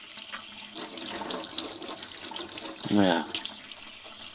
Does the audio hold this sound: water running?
yes